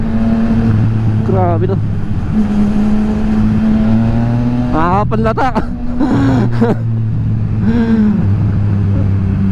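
A Yamaha XSR900 motorcycle engine drones steadily close by, then revs sharply in quick rising bursts midway before settling back, with people talking over it.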